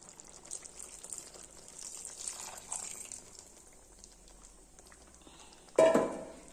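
After a stretch of quiet simmering, coconut milk is poured into a pan of fish molee in one short, bright splash near the end.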